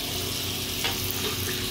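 Water pours steadily into a container holding seashells, a continuous close splashing and trickling with no voices.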